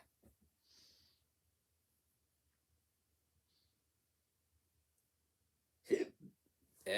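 A man reviewing a TV series gives a sudden, loud and close hiccup near the end of a mostly silent stretch, then a short second jolt right after.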